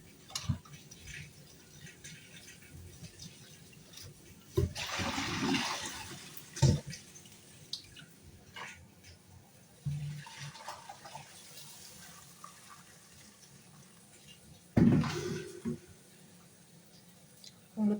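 Hot water runs from a tap over beef in a sink as it is washed, with intermittent splashing and gushes that swell and fade while handling noises come and go.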